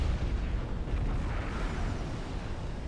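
Heavy T3 artillery in the real-time strategy game Supreme Commander, a dense, continuous low rumble of booming shots and explosions that blur together at steady loudness, with no talk.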